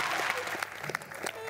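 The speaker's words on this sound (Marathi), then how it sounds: "मास्टरांसाठी आमच्या जोरदार टाळ्या झाल्या पाहिजेत" A studio audience at a Marathi comedy show breaks into loud, dense clapping that continues without a break, with a voice briefly audible over the applause.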